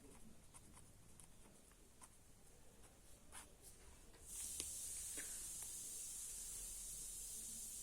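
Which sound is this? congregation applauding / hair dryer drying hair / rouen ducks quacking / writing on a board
writing on a board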